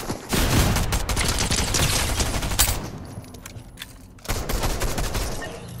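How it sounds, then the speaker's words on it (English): Fortnite gunfire crackles in dense, rapid bursts of shots during an online match, loud and close, easing off briefly before another burst picks up. "Oh god, we're getting shot at again."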